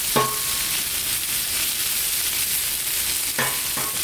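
Potatoes are stirred on a sizzling Blackstone griddle during an outdoor cookout in the rain. A loud, steady frying hiss fills the whole clip, and a spatula scrapes the hot surface at the start and again near the end.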